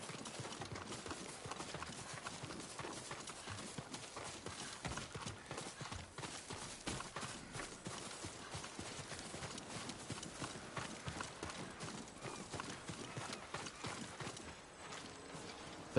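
Steady clip-clop of horse hooves walking on a hard surface in the video game Ghost of Tsushima, continuous and fairly close throughout, with an occasional faint whinny.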